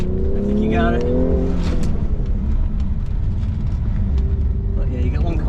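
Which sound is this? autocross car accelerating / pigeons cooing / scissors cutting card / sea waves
autocross car accelerating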